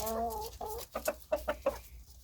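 A rooster clucks close by in a quick series of short, throaty notes, fairly faint overall.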